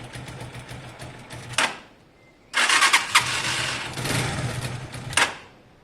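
A carburetted Zontes Tiger 125cc motorcycle engine cranks on choke in short bursts, pauses, then catches and runs raggedly with surging revs, close by and fairly loud.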